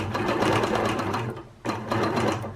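A Q16 quilting sewing machine runs steadily and close by, its rapid mechanical whir filling the space, pausing briefly before starting up again at the same pace.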